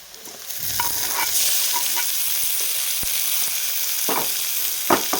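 Tomatoes sizzle and fry with onions in a pan as a spoon stirs them, giving steady frying hiss with scraping stirs and a few louder clacks near the end, with no voices.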